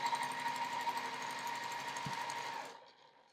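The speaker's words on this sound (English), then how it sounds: "sew a 1/4 inch seam" Sewing a quarter-inch seam on a quilt block, a sewing machine hums in a steady, close run of fast stitching that cuts off abruptly near the end.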